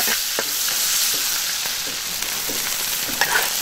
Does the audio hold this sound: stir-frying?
yes